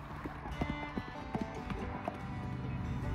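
Horse hooves clip-clopping on an arena surface during a riding lesson, a steady stream of fairly close hoofbeats that carries on throughout with no one talking.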